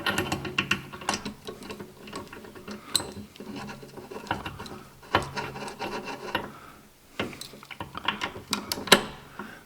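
Socket wrench with an extension turning a nut, close ratcheting clicks and metallic rubbing in uneven bursts.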